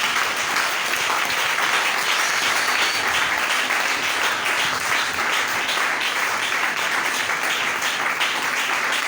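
A church congregation at a seminar applauds the Lord, sustained dense clapping filling the hall at an even loudness throughout, with faint voices mixed in.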